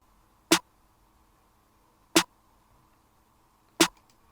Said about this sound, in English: I made this second snare pattern.